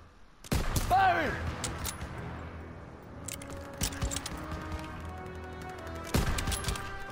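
Gunfire crackles through a WWII video game battle scene, with bursts of rifle and machine-gun fire at the start and end amid shouted voices.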